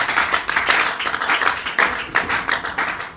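A church congregation claps in unison to acclaim the Lord, a steady run of loud, rhythmic handclaps filling the room without pause.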